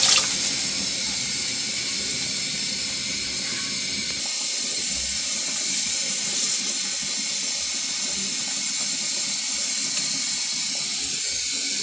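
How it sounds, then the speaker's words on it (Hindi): Yakhni stock pours into a pot for pulao, a steady close hissing, splashing wash of liquid that carries on unbroken for the whole stretch, with no speech over it. "ये यखनी डाल देते हैं"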